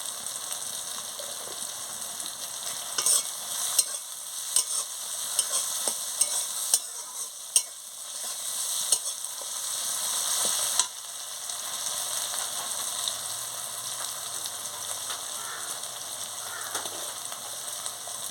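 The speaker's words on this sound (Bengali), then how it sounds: "সামান্য একটু নুন দিয়ে দিচ্ছি, মশলাটা ভালো করে ভাজা হয়ে যাবে।" Chilli powder and spices fry in oil in a pan for a fish-head and cabbage curry, with a steady close sizzle and repeated scraping stirs, clacks and clicks of the spoon throughout. No one speaks.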